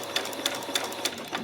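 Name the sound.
sewing machine finishing with a back stitch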